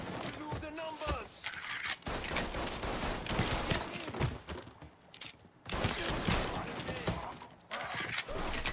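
Rapid bursts of gunfire in a Mafia III: Definitive Edition shootout, loud and dense with repeated volleys and short breaks, mixed with shouting voices.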